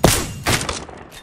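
Gunfire from an Apex Legends match: two heavy thumping shots about half a second apart, close and loud, each trailing off into a rumbling decay with no speech over them.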